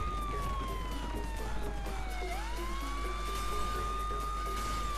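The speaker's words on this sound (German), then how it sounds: "Einfach mal Sirene anmachen, dann passt das schon." A police car siren wails continuously in the video game Saints Row 3, a steady rising and falling tone over a droning vehicle engine, loud and close with no speech.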